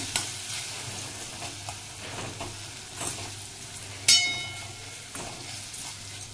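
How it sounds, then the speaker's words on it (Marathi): A sweet corn and vegetable mixture is sautéed in a pan, with soft scraping stir strokes over a steady sizzle and one sharp metallic clink partway through. "चांगलं परतून घ्यायचं।"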